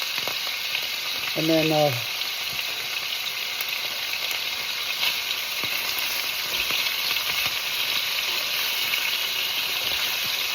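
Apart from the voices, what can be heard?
thin braciola meat frying and splattering in a pan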